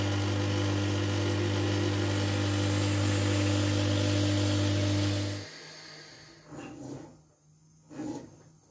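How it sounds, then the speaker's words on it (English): A steady mechanical vacuum backing pump for a high-vacuum metallisation chamber drones loudly with a low hum, then cuts off abruptly, leaving quieter room noise with a couple of brief sounds. "leave the backing pump on and leak some air into the chamber"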